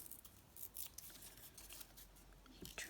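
Scissors cut collage paper for decorating tags in a quick series of soft, close snips over faint background noise.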